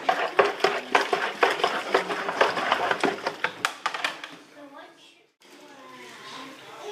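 A homebrew beer mixture is stirred briskly in a vessel, giving a run of rhythmic scraping, clanking knocks for several seconds before it trails off. A person speaks over the stirring.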